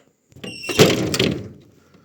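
Tractor cab door swung shut with a squeaky creak and then a heavy metallic thunk, close by, followed by a brief rattle settling into quiet.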